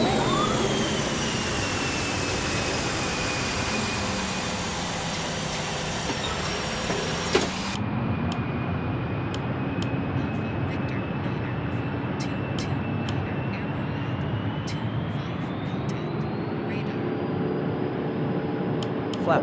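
In a flight simulator game, a Boeing 737-800's jet engines roar steadily during the climb after takeoff, a loud continuous rumble with a high whine; the tone changes abruptly midway and then continues evenly.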